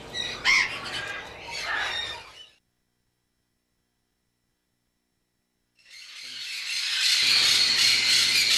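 A rosy-fronted conure, a red-foreheaded parrot from northwest Brazil, gives sharp, shrill squawks in close bursts, then falls silent for a few seconds before harsh, raspy calling resumes and grows louder.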